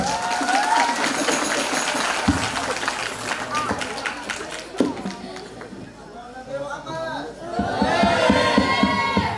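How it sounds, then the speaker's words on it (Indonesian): Audience applause at an evening Islamic sermon gathering celebrating New Year 2024, bursts of clapping and crowd noise that rise and fall over several seconds, mixed with talking and shouts from the crowd. "Biar semangat, kasih tepuk tangan dulu."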